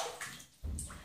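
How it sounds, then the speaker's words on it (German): Someone stepping into a bathtub full of water at about 39 degrees, giving a short slosh and splash as the body enters, then a louder swirl of moving water, fairly close and alone. "Jetzt steige ich schön in mein Bad."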